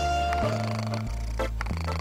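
A cat's meow is auto-tuned into a sung melody, giving steady stepped pitch tones with a musical backing, loud and close, with no talking.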